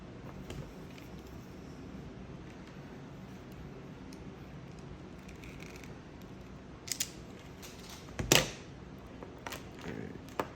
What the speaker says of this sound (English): So I'm gonna cut it off the same length as these others.